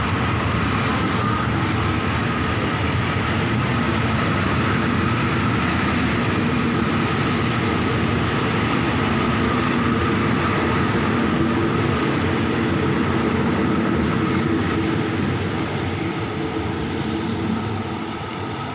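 A Thai rapid train, number 102, rumbles steadily along the rails, a continuous close clatter and hum that barely changes for the whole stretch.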